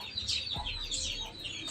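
A Kaki Dega country rooster, an active native breed weighing about 3 to 3.5 kg, gives a few short, close clucks in quick succession.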